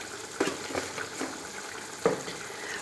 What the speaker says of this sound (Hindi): तकरीबन मुझे 5 मिनट हो गए हैं चिकन को फ्राई करते हुए।